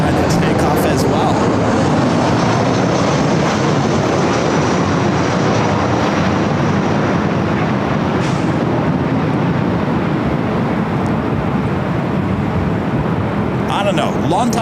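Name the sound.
heavy aircraft taking off at LAX airport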